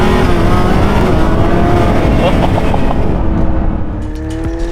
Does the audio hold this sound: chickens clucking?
no